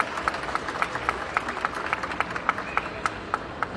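Sparse applause for football club directors and presidents at a Dominican football league press conference, a small group clapping in a loose rhythm, individual claps distinct and moderately close.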